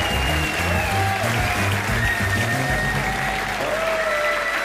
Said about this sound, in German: einen riesengroßen Applaus für unseren ersten Newcomer